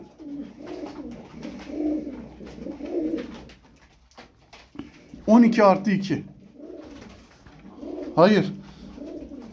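Tumbler pigeons coo close by in a loft, with soft repeated rolling coos and a couple of louder, rising calls, and someone speaks briefly in between.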